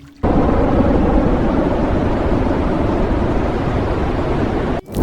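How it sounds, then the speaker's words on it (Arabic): Water gushes from a desert spring shooting up like a fountain, a steady loud broadband rush that starts abruptly and holds evenly for several seconds before cutting off. "أول ما تشوف المنظر ده هتحس إنها نافورة مية عادية"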